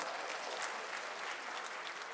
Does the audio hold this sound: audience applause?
yes